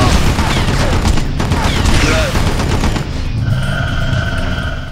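Loud, dense automatic gunfire and explosions from the shooter video game Red Faction 2, a continuous rapid fusillade of weapon fire close up that thins out toward the end, with game voices underneath.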